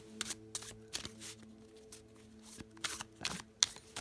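Tarot cards are side shuffled in quick repeated bursts of papery riffling and slapping, close up, with short pauses between.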